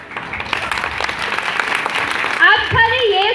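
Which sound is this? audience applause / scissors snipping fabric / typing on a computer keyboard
audience applause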